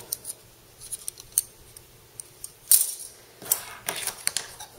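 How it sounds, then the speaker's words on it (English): Metal scissors are opened and snipped close by, with several crisp clicks and a few sharp scrapes, quiet pauses between them. "These weird scissors."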